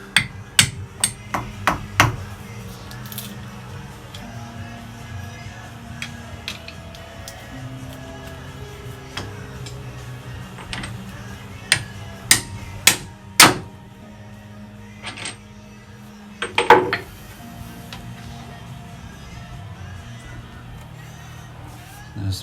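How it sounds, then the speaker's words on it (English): A hammer taps through a greasy cork set into an engine mounting, sharp metallic knocks coming in scattered bursts, a quick cluster early on and more spaced blows later, over a low background hum. "What I'm going to try and do now is see if I can tap through one of my greasy corks."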